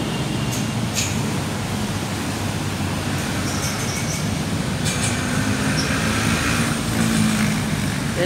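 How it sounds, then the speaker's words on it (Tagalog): A Manila LRT light rail train passes in the city, a steady loud rumble of rail and wheels filling the scene with faint higher squeals and clatter on top, continuous throughout with no talk. "Yan po ay LRT."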